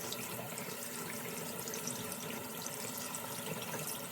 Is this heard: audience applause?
no